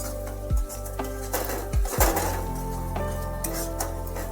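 Spices being stirred and sautéed in a pan for a bitter gourd (karela) dish, with a few spoon knocks against the metal pan under a steady low sizzle, close and fairly loud, no talk.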